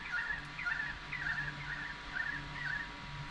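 A currawong calls at a campground at night, giving a series of repeated warbling phrases at an even pace over a steady low background hum, with no voices.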